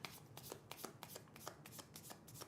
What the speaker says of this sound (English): Shuffle the objective cards and draw 2.